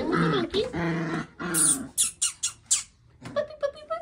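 A litter of young puppies vocalizes up close, a busy series of high squeaky whines, yelps and little growls in short irregular bursts, some overlapping, with no one talking.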